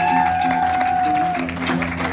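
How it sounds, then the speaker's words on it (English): Applause and crowd noise fill the room at a comedy and magic show, a continuous wash of clapping with voices mixed in and a sustained tone running underneath. "All of this applause is for you, my friends"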